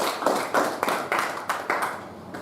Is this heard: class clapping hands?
yes